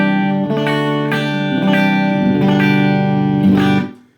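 A clean electric guitar, a Music Man Silhouette on the front notch pickup position, plays a few ringing chords with a bright, slightly nasal tone, each strum sustaining before the next, then fading out.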